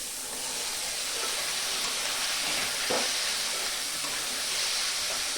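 Kabuli chickpeas go into spiced mutton masala frying in a pan, a steady close hiss of sizzling throughout with one brief louder burst partway through, no voices.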